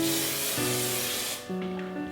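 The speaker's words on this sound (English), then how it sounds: "Now that I've done these, I'm going to spray them again with hairspray." A long hissing spray from a hairspray can runs for over a second, close by, then stops, leaving a low background hum.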